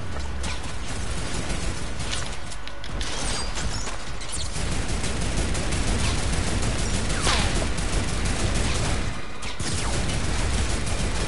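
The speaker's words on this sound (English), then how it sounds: "Can everyone like stop shooting at me, please?" Dense, continuous gunfire in Fortnite near mounted turrets, loud and steady for the whole stretch with overlapping bursts and crashes, no voices.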